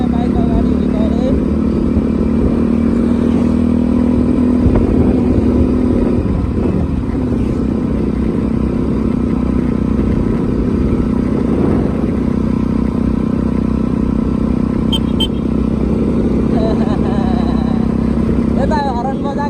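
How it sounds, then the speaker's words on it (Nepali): A motorcycle rides along a rough road, its steady engine drone and rattle continuous and close for the whole stretch, with people talking over it at times. "हाम्रो अमित दाइले साथमा बाइक अगाडि हिँडाए।"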